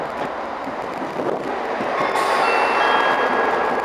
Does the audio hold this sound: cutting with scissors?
no